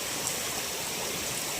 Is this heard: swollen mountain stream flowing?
yes